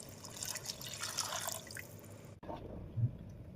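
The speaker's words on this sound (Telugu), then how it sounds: "శనగల్ని ఉడికించాం కదా కుక్కర్లో, ఏవైతే ఆ మంచినీళ్ళు ఉన్నాయో వాటిని దీంట్లో పోసుకుందాం." Chickpea cooking water from a pressure cooker is poured into a potato gravy for chole, a soft splashing, trickling pour that stops abruptly, followed by near silence and a faint drip.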